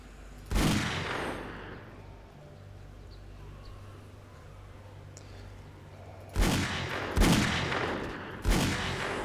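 Loud gunfire from a gun in the 7 Days to Die zombie game: one sharp blast early, a quiet stretch, then three more booming shots in quick succession near the end.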